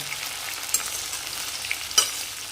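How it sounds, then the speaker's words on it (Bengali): Cloves, cinnamon and green cardamom sizzle and crackle in hot oil, with a spoon scraping and stirring the pan twice; no voices. "লবঙ্গ, দারচিনি আর ছোট এলাচ দিয়ে করছি আবার নাড়াচাড়া"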